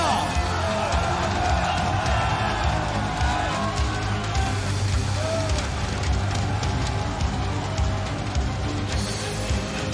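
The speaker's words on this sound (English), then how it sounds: "On les applaudit bien fort!" Crowd noise from a live esports audience at an ESL Pro League Counter-Strike semi-final on Dust2, applauding and cheering as the teams are introduced. The noise is steady, dense and loud for the whole stretch, with a host's voice over it.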